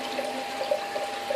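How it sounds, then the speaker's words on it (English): Water runs through the overflow teeth of an aquarium in a continuous trickling, gurgling flow, close and steady, with faint bubbling and no voices. "how much water is flowing through there"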